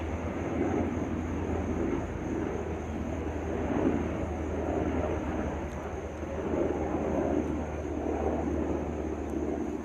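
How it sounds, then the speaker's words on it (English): A small single-engine propeller plane drones overhead in the Philippines, a steady buzzing engine that swells and fades gently across several seconds, heard from a distance without voices. "There's a plane coming."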